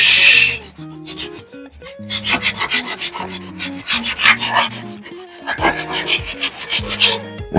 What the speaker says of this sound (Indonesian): Pakai amplas 400.